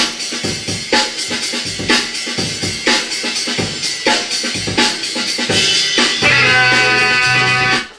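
A drum break at its original tempo: a busy funk groove of kick, snare and ride cymbal hits looping for several bars, loud and steady, ending in a washy cymbal.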